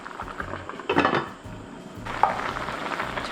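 A metal lid clatters onto a pot of soy sauce braised small potatoes simmering on low heat, with two clear clinks a second apart over the steady quiet bubbling and sizzle of the pot.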